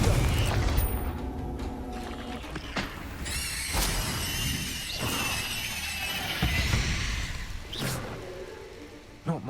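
Explosions from the Confringo spell in Hogwarts Legacy, fought against a giant spider: repeated sharp blasts and shattering crashes with crackling debris, loud and close amid busy combat noise, several bursts spread across the stretch.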